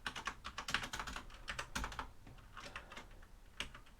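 Computer keyboard typing during a coding session, rapid irregular clusters of key clicks running steadily throughout, close and moderately loud, with no talking.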